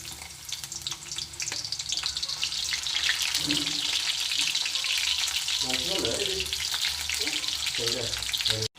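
Onions frying in hot oil for a cabbage curry, a steady broadband sizzle running the whole time with occasional stirring clinks and faint background voices.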